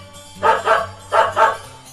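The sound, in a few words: dog barking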